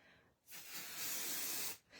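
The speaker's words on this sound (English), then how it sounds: "Then I'm going to turn that down and put some 505 spray." 505 spray adhesive sprayed onto fabric backing for a quilted wall hanging, one continuous close hiss of about a second and a half that starts and stops sharply.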